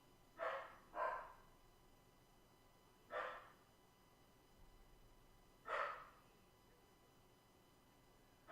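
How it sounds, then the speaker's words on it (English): A dog barks off-camera in a room, with four to five separate barks spread across several seconds, moderately distant and fairly quiet against low room noise. "Dog's barking at something."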